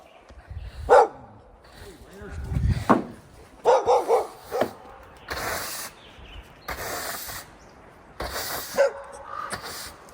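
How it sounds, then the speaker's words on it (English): Dogs bark in several loud, close bursts with yips and short gaps, while people talk excitedly between and over the barks. "Oh, the dogs are here."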